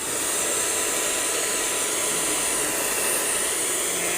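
Blower dryer drying a husky dog after a bath, a steady loud rushing whoosh of air that continues unbroken throughout, close by with no other sounds.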